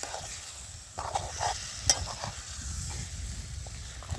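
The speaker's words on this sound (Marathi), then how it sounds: "ते आपण मासे चांगले तेलामध्ये हलवून घेणार आहे" Fish pieces coated in masala are stirred in hot oil, giving a steady close sizzle with a few scraping knocks from the spoon and pan, and no voices.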